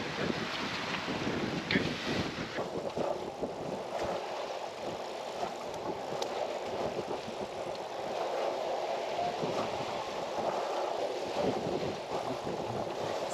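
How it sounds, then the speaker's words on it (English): Strong, steady wind of over 20 knots roars and buffets the microphone aboard a monohull sailboat, with rushing water and hull noise underneath, continuous throughout with no voices. "there's a lot of wind. There's like 20, I think over 20 knots of wind"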